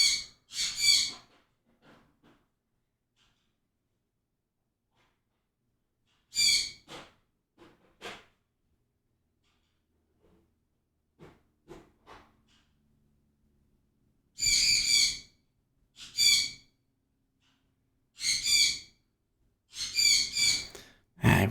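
Pet bird giving loud, shrill calls in bursts, a couple of quick screeches at the start, then more around six to eight seconds and a dense cluster of piercing calls near the end, with quiet gaps between.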